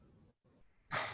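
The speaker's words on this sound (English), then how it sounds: "I heard a cough." A single short, sharp cough bursts out loudly after a moment of faint room noise and a brief silence.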